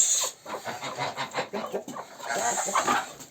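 A rooster clucks repeatedly in short, uneven bursts, close by, with faint background noise.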